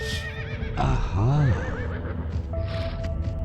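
Horses in the adventure game Limbo of the Lost neighing loudly, several overlapping whinnies rising and falling near by, with a brief spoken interjection and a steady tone underneath.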